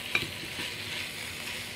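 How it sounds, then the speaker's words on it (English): Chopped bacon, about a pound, crisping in a pan over a medium-high burner, with a steady broadband sizzle and a few brief clinks or stirring scrapes near the start. "You can see our bacon there is getting crisped up."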